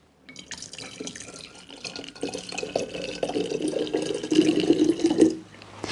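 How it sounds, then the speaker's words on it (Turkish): Lukewarm water pouring through a funnel for a volcano experiment, a continuous close trickle and splash that builds in strength before stopping abruptly near the end. "İlk önce hunimizi yerleştiriyoruz. Ilık suyumuz var demiştik. Ilık suyumuzu boşaltıyoruz."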